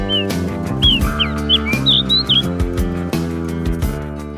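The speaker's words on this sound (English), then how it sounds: "White bushchat is a small bird usually seen in open places." White bushchat, a small open-country bird near Shamshabad, giving a series of short, sharp chirps and whistled calls, clear and fairly close, heard over prominent background music.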